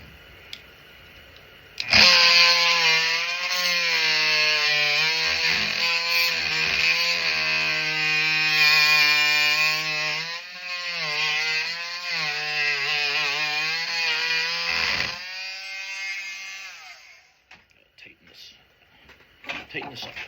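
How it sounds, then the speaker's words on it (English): A power tool cuts into a steel axe head to relieve pressure on the wedge while removing the head from a custom throwing axe: a loud, steady, high-pitched whine runs for about thirteen seconds, dips slightly mid-cut, then winds down. "what I'm going to do is I'm going to do a little bit more cutting, so a little bit more relieving"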